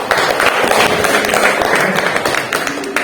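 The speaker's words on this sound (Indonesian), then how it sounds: "Bagus, tepuk tangan." Applause in a classroom setting, a steady patter of hand claps filling the whole stretch fairly close and loud, with faint voices underneath.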